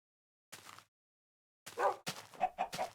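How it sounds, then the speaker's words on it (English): A chicken in the video game Minecraft clucks in a short burst, then in a run of several quick clucks, close and clear against silence. "It was a chicken."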